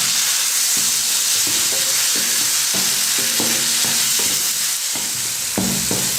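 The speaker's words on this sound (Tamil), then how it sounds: "தக்காளியை ஒரு 2 நிமிஷம் ஃப்ரை பண்ணதும்" Onion and tomato frying in a pan for macaroni pasta, a steady loud sizzle with repeated scraping stirs of a spoon at irregular intervals.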